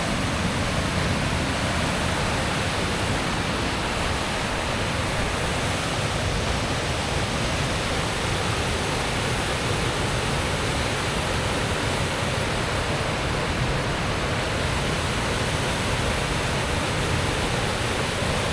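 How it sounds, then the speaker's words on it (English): A small spring-fed waterfall in a Kenyan forest rushes continuously nearby, a steady broadband hiss and splash with no pauses or voices. "Look at that small waterfall here."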